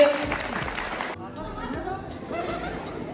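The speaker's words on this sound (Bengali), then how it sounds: "হাততালি।" Students at a high school quiz competition break into a short burst of clapping, which quickly gives way to crowd chatter and murmuring voices.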